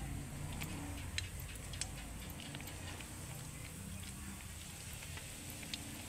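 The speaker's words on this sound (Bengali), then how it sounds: "এই ব্রেডগুলো কিন্তু ভাজতে হবে একদম মুচমুচে লাল করে।" Bread slices frying in hot oil give off a constant low hiss with small scattered crackles and pops, faint and unbroken throughout.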